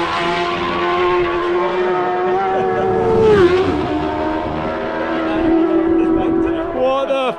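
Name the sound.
racing motorcycles speeding past on the Isle of Man TT inspection lap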